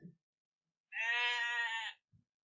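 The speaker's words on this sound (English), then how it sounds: "Yes, it is a sheep." A single sheep gives one clear, close bleat lasting about a second, framed by brief faint sounds in an otherwise quiet setting.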